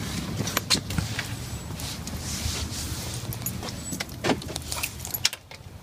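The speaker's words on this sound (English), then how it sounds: "Keys." A set of keys jangles close by in several quick metallic bursts, with faint outdoor car and footstep noise underneath and no talking.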